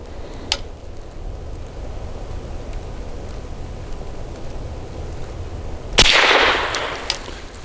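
A 9mm pistol loaded with test ammunition fires two sharp gunshots: one near the start and a louder one about six seconds later with a ringing tail. A steady outdoor noise floor runs between the shots.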